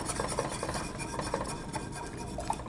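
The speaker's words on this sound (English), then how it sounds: "once the cream and sugar mixture comes to a boil, we will slowly whisk everything in" A whisk working cream and sugar mixture in a pot, quick scraping metallic strokes at a steady close rhythm with light clinks against the sides.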